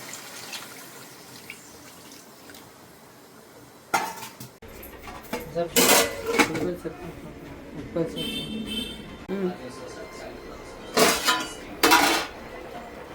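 Metal spoon clanks and scrapes against a cooking pot while fish curry with tomato puree and tamarind is stirred, a few sharp clinks standing out over faint background noise; nobody speaks.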